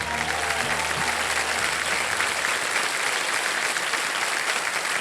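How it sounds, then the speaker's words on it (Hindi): Dense studio audience applause for a quiz show contestant who has chosen to quit, loud and sustained, fading into a continuous wash of clapping. "तालियां बज जाएं इनके लिए"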